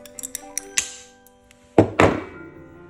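A small glass piece for a mosaic is cut to size: several light, close ticks and taps, then two sharper, louder snapping cuts in quick succession.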